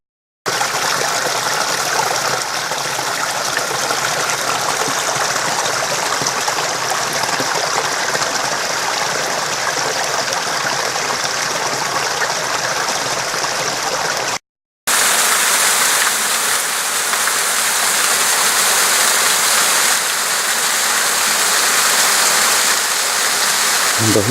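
Waterfall in Ujitawara, Japan, rushes in a steady, loud, broadband roar that carries on unbroken, with a brief cut partway through.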